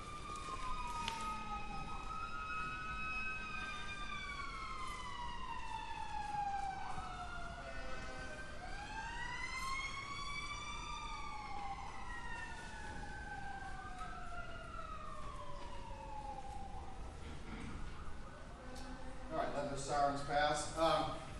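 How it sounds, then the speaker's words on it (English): Several emergency vehicle sirens, fire truck and police wails, sweep up and down as they pass outside a courtroom during a murder trial, loud and overlapping for most of the span, with voices in the background. "Sirens pass."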